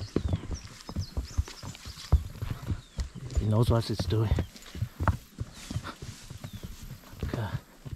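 Horses walk a steep trail at Kurland Park near Plettenberg Bay, South Africa, hooves clip-clopping irregularly up close while riders talk over the steps and a brief whinny-like sound rises midway.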